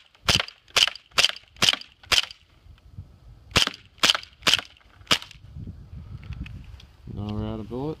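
Elite Force 1911 Tac airsoft pistol firing ten sharp, evenly spaced shots in two bursts, loud and close, followed by quiet handling noise and a brief voice at the end.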